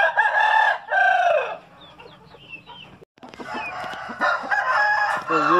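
A young gamecock with a comb-trimmed head crows twice, loud and near, with soft clucking and rustling between the calls and no speech.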